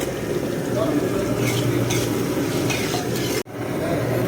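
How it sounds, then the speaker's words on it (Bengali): Marinated meat cooking in a pot outdoors, a steady low bubbling simmer with faint stirring and scraping, continuous and fairly close, with a brief dropout near the end. "এই যে মাংস রান্না চলছে আপাতত, দেখুন আপনারা"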